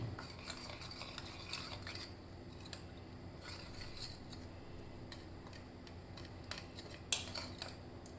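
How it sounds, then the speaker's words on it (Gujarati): A spoon stirs spices into water, scraping against a bowl in quiet, irregular clinks and taps, with one sharper knock near the end. "આ બધા મસાલાઓને પાણીમાં સારી રીતે મિક્સ કરી લઈશું"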